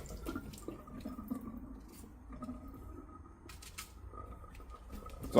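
A plantain is rinsed under a running kitchen tap, steady quiet water flow with faint splashes and drips, and no talking.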